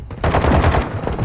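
Rapid, loud shotgun blasts in Modern Warfare 2 gameplay, several booming shots fired in quick succession at close range with little pause between them.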